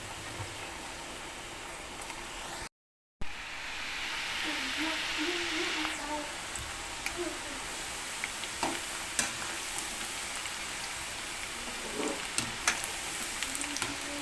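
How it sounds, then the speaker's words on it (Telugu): Gavvalu, small shell-shaped sweets, deep fry in oil on a medium stove flame, a steady close sizzle with scattered pops and light stirring clinks throughout after a brief cut. "స్టవ్ని కూడా మీడియం ఫ్లేమ్లో పెట్టుకొని డీప్ ఫ్రై చేసుకోవాలి"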